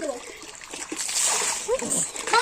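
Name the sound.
water splash from children diving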